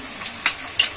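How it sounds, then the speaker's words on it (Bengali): Onion and ginger-garlic paste fry in oil for a crab curry, giving a steady close sizzle broken by a few quick spoon scrapes against the pan, with no talking. "আদা রসুন বাটাটাও ভেজে নেবো পেঁয়াজের সাথে।"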